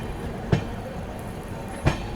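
A train rolls slowly through Ghaziabad Junction on the New Delhi to Gorakhpur route, a steady low rumble with two distinct clunks about a second apart as wheels cross rail joints, heard from aboard.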